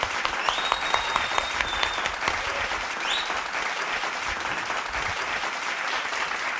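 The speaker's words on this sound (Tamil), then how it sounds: "கைத்தட்டுங்க சார், கொடுங்க சார், கொடுங்க சார்." Steady applause from a congregation during a late-night church Bible study, a dense wash of clapping that holds evenly for several seconds, with a few sharp louder claps early on and no voices over it.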